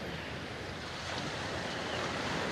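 Ocean surf washes continuously and fairly faintly behind the shore, a steady broad hiss with some wind noise and no distinct individual breakers.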